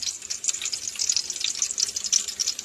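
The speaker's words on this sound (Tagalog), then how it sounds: "nagigisa na ako ng bawang" Garlic sautéing in a pan, a steady bright crackling sizzle that holds close and fairly loud throughout, with no talk over it.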